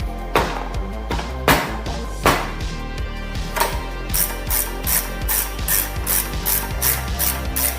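A ratchet loosens a suspension bolt on an Agility 125 scooter, giving a series of close metallic clicks, first in separate slow strokes, then in a quicker, steady run of clicks.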